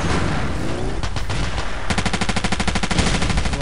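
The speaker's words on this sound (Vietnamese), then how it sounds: "Có hai cái súng máy, một cái súng máy hạng nặng, cái súng máy hạng nhẹ cùng bắn nó mới đã." A heavy and a light machine gun fire together in the video game Battlefield 2, producing sustained, loud, rapid automatic bursts that build into a continuous rattling stream, with no talking.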